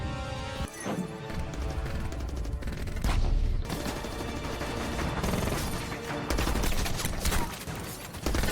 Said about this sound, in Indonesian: Tembakan pecah di mana-mana